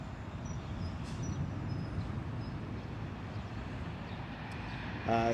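A CRJ 900 airliner on approach to LaGuardia runway 4, passing over 82nd Street in East Elmhurst, Queens, gives a steady, loud, broad engine roar. The roar holds throughout with little change and no talk.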